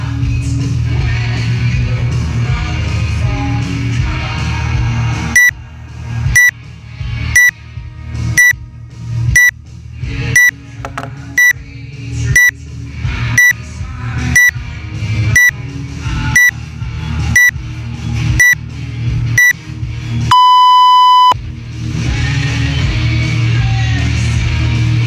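Workout timer beeping during a CrossFit Open 18.3 session, a regular series of sharp short beeps about once per second ending in one long tone, set against gym noise that drops away during the countdown.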